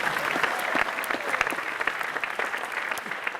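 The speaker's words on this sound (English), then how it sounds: "People seem to clap when they see the trail of it." Audience applause for a juggler spinning clubs in triples at a juggling festival, a fairly dense burst of clapping from a crowd.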